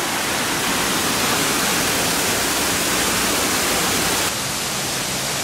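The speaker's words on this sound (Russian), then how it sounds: "и целый каскад водопадов." A cascade of waterfalls seen from a viewpoint on Tenerife above Puerto de la Cruz produces a loud, steady, hissing roar of rushing water that fills the scene, with no one talking.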